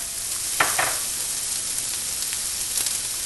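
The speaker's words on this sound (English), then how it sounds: "All right, the onions are caramelizing." Vidalia onions from Georgia browning in bacon fat in a pan give a steady, close sizzle and crackle, with a couple of brief scraping stirs near the start and no voices.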